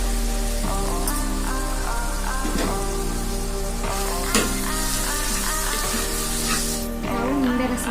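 Curry leaves sizzle in hot oil in a pan for lemon rice gojju, a steady, close frying hiss with scraping stirs, layered over a continuous musical background.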